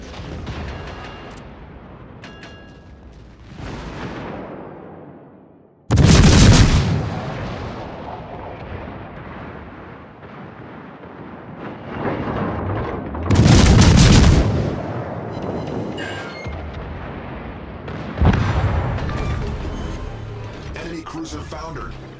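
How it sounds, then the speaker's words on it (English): Naval guns in a video game fire on a target in three heavy, booming salvos spaced several seconds apart, with speech and rumbling battle noise between the shots. "Concentrate fire on the designated target."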